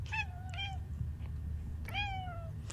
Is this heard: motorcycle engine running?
no